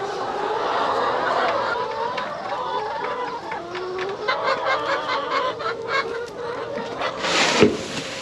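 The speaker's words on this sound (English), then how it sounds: "Want to see the baby chick? These are pets. These are my little turkeys." Pet turkeys and baby chicks on a farm cluck and peep near the microphone in busy, overlapping calls that swell toward the end, while a person talks over the birds.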